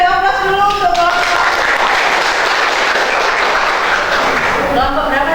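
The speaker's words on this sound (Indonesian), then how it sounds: "kita beri aplaus dulu untuk kelompok" A classroom of students claps for a group, a dense steady wash of applause lasting several seconds, with voices heard briefly at the start and end.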